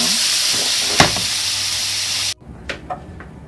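Tuna searing in a hot pan gives a loud, steady sizzle and hiss for a couple of seconds, then cuts off abruptly, leaving a few faint clinks and soft kitchen sounds.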